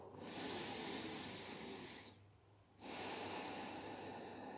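Slow, deep breathing during a relaxed yoga forward fold, heard as a long, loud airy exhale close up, a short quiet pause, then another long breath, with no talking.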